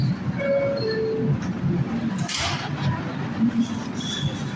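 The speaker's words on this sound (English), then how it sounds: "This is a Brooklyn-bound 4 local train." A New York City Brooklyn-bound 4 local subway train rumbles steadily at close range between 28th and 23rd Streets, with a thick low roar and faint high metallic squeals drifting through.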